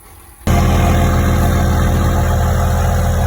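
A Cummins diesel engine catches after a jump start and settles into a loud, steady, close idle with a low rhythmic chug that continues to the end, following a brief quieter moment before it fires.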